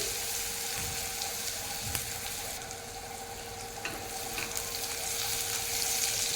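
Onions sizzle steadily in plenty of hot oil, a close, continuous crackling frying sound with occasional stirring clicks and no voices.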